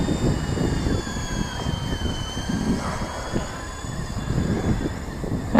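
WLToys V913 RC helicopter flies in high wind, its rotor and motor whine holding a steady pitch over gusty, rumbling wind buffeting the microphone.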